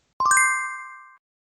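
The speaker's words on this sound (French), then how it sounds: "la cloche" A single bright notification bell ding, struck in a quick cluster of three or four chiming hits and then ringing out for about a second, clean and alone.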